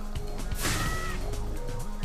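Seagull in Spyro: Year of the Dragon gives a short, harsh caw over busy game sound in a brief clip.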